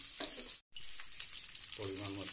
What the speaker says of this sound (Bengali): আলুটা দিয়ে নাড়াচাড়া করছি